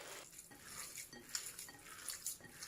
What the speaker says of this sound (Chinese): 先将它抓拌混合均匀。